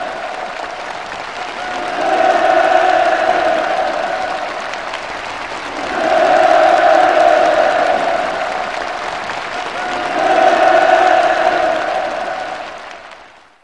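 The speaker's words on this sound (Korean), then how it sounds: "김종은 동지를 우러러 열광의 환호를 터쳐 올렸습니다" Large audience at a party plenary meeting breaking into loud applause and cheering in three long swelling waves, each rising and fading before the next, with dense clapping and shouts filling the hall.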